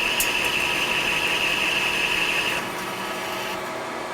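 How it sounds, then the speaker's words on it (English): A brand-new Lion metal lathe takes its first transverse cut at about nine thousandths per revolution, giving a steady close whine with a high cutting tone that drops away near the end as the feed stops. "this will be the first transverse cut on the lathe"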